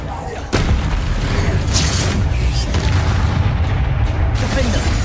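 A Confringo fire spell bursts in the Hogwarts Legacy video game as a loud, close boom, followed by sustained rumbling and crackling game effects.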